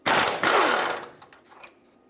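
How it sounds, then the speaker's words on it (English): A wrench frees the 19mm nut and bolt from the passenger-side steering rack bracket of a 1996-2002 Toyota 4Runner: one loud, rapid mechanical burst lasting about a second, then a few scattered metallic clicks fading out. "There's a bracket that's held on with a 19mm nut and a 19mm bolt. Take both of these out."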